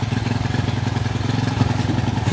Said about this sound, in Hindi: अब बाइक स्टार्ट करेंगे